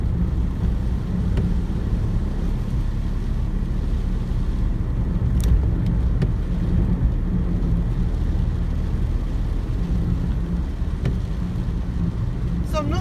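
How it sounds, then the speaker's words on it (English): A car cruises at about 35 mph on narrow, bendy country roads near Sligo, heard from inside as a steady, loud low rumble of engine and road noise with no let-up and a few faint squeaks. "I'm driving at about 35 miles an hour"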